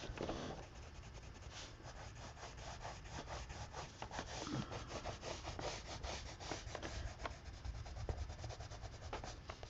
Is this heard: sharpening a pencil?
yes